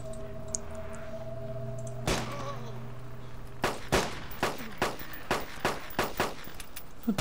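Gunfire in the DayZ Mod video game: a single shot, then a rapid string of sharp reports about half a second apart, loud and close over a steady game hum.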